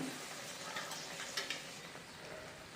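Betel leaf bajjis frying in hot oil make a faint, continuous sizzle, with a few light ticks and taps as they are turned.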